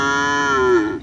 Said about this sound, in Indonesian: ini teman-teman bawa 3 sapi